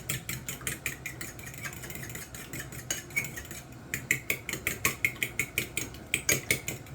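Eggs beaten together with yogurt, vanilla and lemon juice in a bowl for a low-carb lemon pound cake, a fast rhythmic clatter of a whisk or fork striking the bowl, close and steady with brief pauses, no talking.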